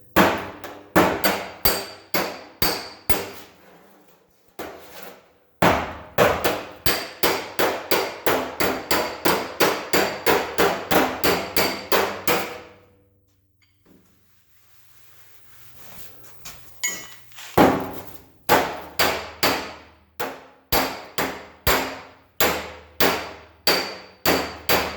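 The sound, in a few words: hammering car body dents with slapper, hammer and dolly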